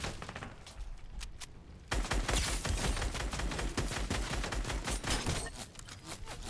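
Dense rapid gunfire from the Fortnite video game, bursts and volleys of shots crackling continuously and loudly after a quieter opening, with no talking.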